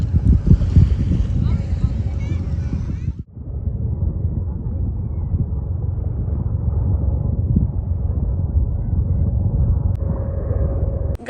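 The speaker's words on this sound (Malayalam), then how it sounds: "ബീച്ചിലെ കാറ്റ്" Strong wind at a beach roars in a steady, loud, low rumble that buffets the microphone, with a brief lull partway through.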